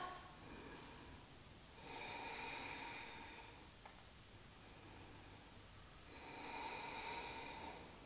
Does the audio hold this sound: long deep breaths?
yes